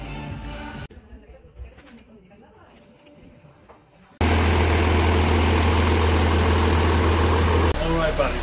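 After some quieter sounds, the 3.0 TDI diesel engine of an Audi A6 starts running after an engine swap, with a loud, steady low hum, and a voice comes in near the end.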